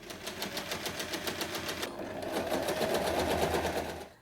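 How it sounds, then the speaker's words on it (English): A sewing machine runs close and steady, its needle ticking in a fast even rhythm as it stitches along the edge of fabric panels for a color block tote bag, with the motor note rising slightly near the end. "Then sew along the edge to join them."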